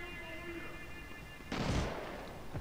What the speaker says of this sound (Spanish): Se escuchan tiros ahí en el fondo.